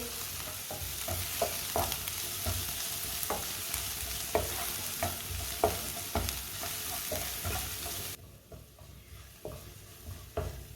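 Whole cumin and coriander seeds dry-roasting in a hot pan, giving a steady crackling sizzle with scattered sharp pops and stirring scrapes, close and continuous, quieter after a sudden drop near the end.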